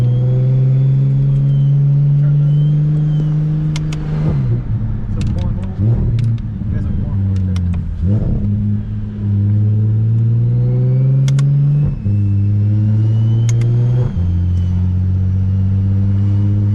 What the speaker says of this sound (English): Little rolling burnout, never hurt nobody.